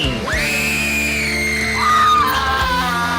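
A long, loud, piercing human scream that wavers in pitch and swoops higher then lower, rising over a crowd-like background during a live comedy show performance.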